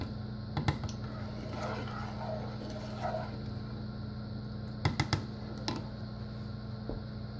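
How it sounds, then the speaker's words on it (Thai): Bundled pandan leaves are pounded to release their scent, producing a few short, soft thumps: one pair early on and a quick cluster later, set against a faint steady kitchen hum. "แล้วเดี๋ยวเราจะทุบนะคะบุบๆเขาเพื่อที่จะ ให้มีกลิ่นเขาออกมานะคะ"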